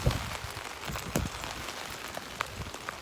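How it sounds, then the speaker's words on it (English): Steady outdoor rain falls in a dense, even hiss, with scattered close droplet taps standing out now and then. "it's raining, and it is raining a decent amount."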